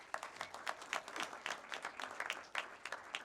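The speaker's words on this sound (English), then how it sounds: "Could you give yourselves a round of applause" Graduates at the ADMI graduation ceremony at Absa Bank Sports Club applaud themselves, a lively patter of close, sharp claps from a modest group, uneven and bursting throughout at fairly low volume.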